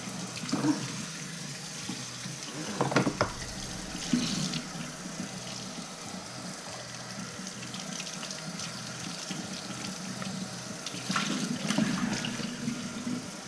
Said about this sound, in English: now we're gonna wash it off.